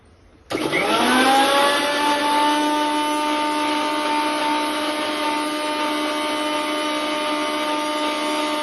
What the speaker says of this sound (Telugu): బాగా మిక్సీ చేసేసుకోవాలండి